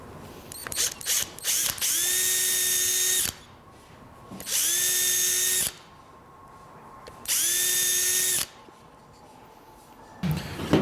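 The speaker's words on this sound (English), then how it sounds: "After I have drilled my nail holes" Nail holes are drilled into a horse's hoof pad with a power drill: three separate high whining runs of about a second and a half each, with quiet pauses and small mechanical clicks between them.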